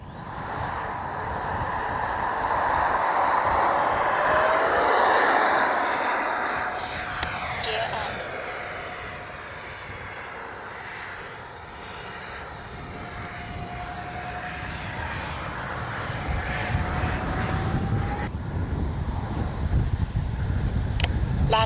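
An RC MiG-29 jet model with twin 64mm electric ducted fans flies past on a windy day, a loud rushing whine that rises and falls as it sweeps overhead and around, with someone talking over it.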